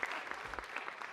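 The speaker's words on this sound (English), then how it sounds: "Can we give them a round of applause?" Audience applause at a city council meeting, a brief, fairly faint patter of clapping from the room.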